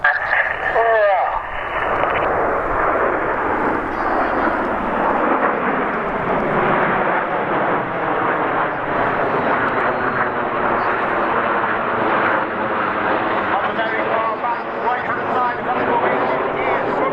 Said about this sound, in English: in celebration of 20 years of the Royal Air Force Typhoon display team,